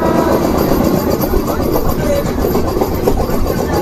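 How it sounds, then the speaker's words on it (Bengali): Malda Town–Sahibganj MEMU train pulling out of Malda Town station, a loud, steady rumble with rail clatter and rattling carriage noise running continuously throughout. "তো দেখছেন ধীরে ধীরে ট্রেন মালদা টাউন পার করে এখন এগিয়ে যাচ্ছে সামনের দিকে"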